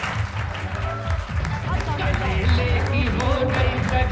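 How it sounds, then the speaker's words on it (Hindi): Steady applause from a TV talk show studio audience fills the space, dense and sustained, with a crowd murmuring and a voice faintly underneath. "बहुत सी तालियों में डॉक्टर जवेरिया।"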